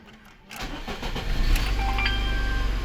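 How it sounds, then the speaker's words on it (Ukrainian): A VAZ 2101 car engine, just fitted with a new alternator, cranks after a brief quiet moment and catches, then settles into a loud, steady idle close by. "Машинка завелась"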